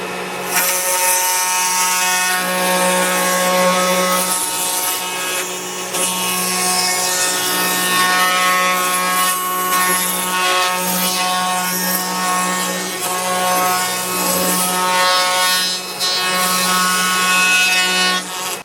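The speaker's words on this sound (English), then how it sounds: "go all around the outer edges using the 1/4-inch router bit here" A router fitted with a 1/4-inch bit rounds the outer edges of a wooden sign, a loud steady whining roar with a constant motor hum that dips briefly as the bit moves around the edges.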